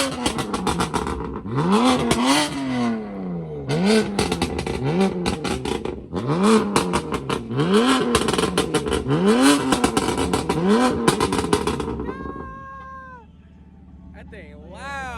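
A loud car exhaust at a car show revs repeatedly in sharp rising bursts, close and aggressive, then drops away near the end as another engine note continues faintly.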